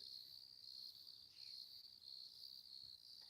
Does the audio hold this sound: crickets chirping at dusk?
yes